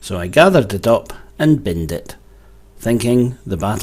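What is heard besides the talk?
No everyday noise stands out behind the speech.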